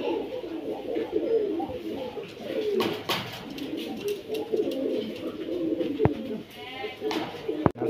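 Pigeons coo nearby in low, soft, continuous warbling calls, joined by a few scattered knocks and brief rustles, with no speech.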